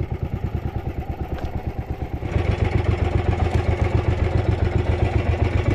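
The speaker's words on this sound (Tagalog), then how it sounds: "Patayin natin itong makina." A boat engine chugs with a steady, rapid rhythmic throb, close and loud, picking up slightly in intensity partway through.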